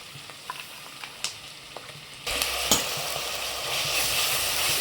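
Onions fry with ginger garlic paste in a pan for a mushroom biryani, a few stirring clicks giving way to a loud, steady sizzle that swells and holds close up.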